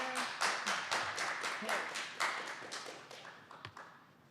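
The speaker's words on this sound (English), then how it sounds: "Refrain from clapping after public speaking, please." An audience at a Seattle city council meeting claps in a short, moderately distant burst of about a dozen sharp, uneven claps that thin out and fade within a few seconds.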